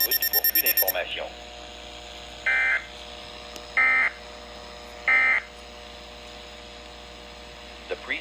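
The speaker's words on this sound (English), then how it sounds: "It is intended to test the Weatheradio tone alarm feature." Three separate steady electronic alert tones from a Weatheradio Canada tone alarm test, each lasting about half a second at regular intervals over a constant background hum, after a brief burst of clipped speech at the start.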